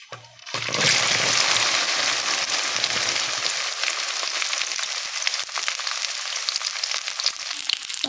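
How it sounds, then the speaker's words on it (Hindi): Okra dropped into a cup of hot oil bursts into loud, crackling sizzling after a quiet opening second, then keeps up a dense, steady frying hiss close by, with no talking. "हम इस तेल में भिंडी को फ्राई करेंगे"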